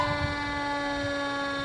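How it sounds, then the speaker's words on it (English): A fire truck siren sounds during a small-town parade, a steady sustained wail held without a break, loud and close. "We'll let the fire truck come by with the siren"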